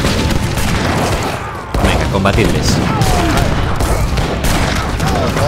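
Cannon blasts and volleys of musket gunfire from a siege battle at Fort Duquesne in Age of Empires 3 Definitive Edition, a dense, continuous barrage of booms and cracks with a brief lull midway, under a man's speech.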